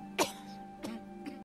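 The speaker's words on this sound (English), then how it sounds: "Cough, cough, cough." Three coughs, the first sharp and loud, followed by two softer ones spaced about half a second apart, with a steady hum underneath.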